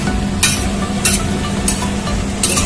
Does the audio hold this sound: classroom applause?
no